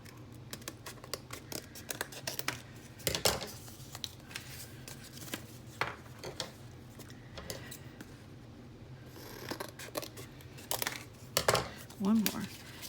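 Scissors snip through envelope paper scraps in a string of short, crisp cuts and rustles, close by and fairly quiet, with a person talking over parts of the cutting.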